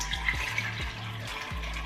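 Over 35 ounces of fresh juice poured from a Nama juicer, a steady liquid gurgle and splash running continuously and fairly quiet, with soft low thumps underneath.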